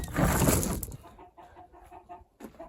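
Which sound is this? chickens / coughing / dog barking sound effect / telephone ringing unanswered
chickens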